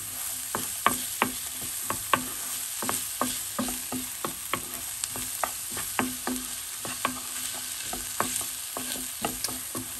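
Food is stirred and fried in a pan, with a spoon or spatula scraping and clacking in a steady rhythm over a continuous close sizzle.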